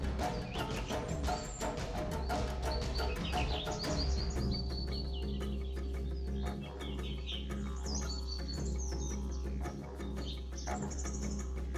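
Bird calls carry over a steady low engine rumble in Jhalana's leopard reserve, where a red-wattled lapwing nests on the ground; the chirps are faint and intermittent against the drone.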